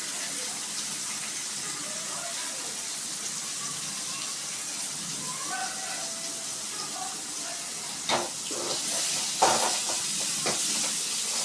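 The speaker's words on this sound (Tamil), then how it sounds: "ஸோ நம்ம நல்லா வதக்கி விட்டுக்கலாம்" Onions sautéing in a pan, a soft steady hiss and sizzle, faint and continuous, with a few clattering stirs near the end while someone speaks in the background.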